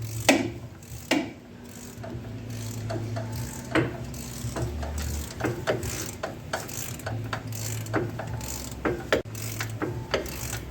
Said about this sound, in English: we got our beautiful new 60-tooth Ultra Pro ratchet here. And we'll get it off.